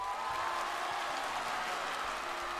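Audience applause on a televised music show, a steady wash of clapping from a studio crowd, moderately distant and without talk.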